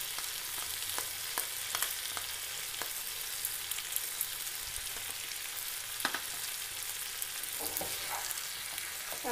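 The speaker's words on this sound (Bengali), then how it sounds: "তারপর এটাকে আমরা আবার চিকেনটার সাথে ভালোভাবে মিক্স করে দেব।" Chicken curry with tomato ketchup being stirred in a pan on a village cooking fire, a steady sizzle under repeated scraping spoon strokes, close and continuous with no talking.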